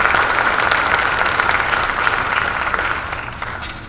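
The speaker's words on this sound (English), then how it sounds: "Give them a round of applause as well." Steady applause from a room of people at a board restructuring meeting, honoring board directors; dense and continuous, fading slightly toward the end.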